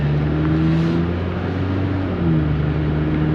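A car engine idles and runs steadily with a small exhaust leak, a loud, close, continuous droning hum with no talking.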